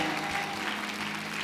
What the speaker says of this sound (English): Come on, clap for them, y'all